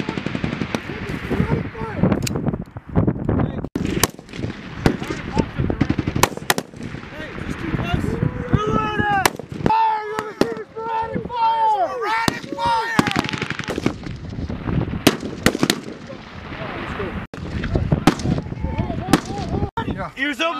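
Rifle gunfire at a Marine rifle squad competition, with sharp sporadic shots and rapid bursts, near and far, cracking repeatedly throughout amid shouted commands from several people.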